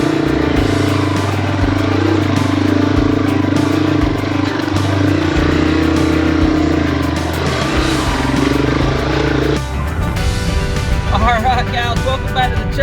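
A Yamaha TW200 motorcycle engine drones steadily and loud throughout a ride up into the hills, with a steady low hum and a shift in tone near the end, no talk.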